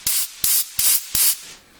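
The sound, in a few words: compressed air blowing out loose material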